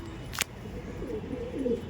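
A pair of Lambati pigeons gives low, rolling coos close by, with one brief sharp click near the start and steady background hum throughout.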